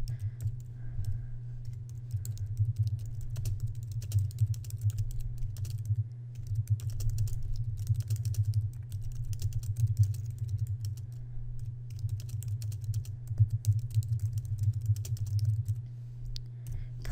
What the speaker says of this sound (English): we're going to type the sentence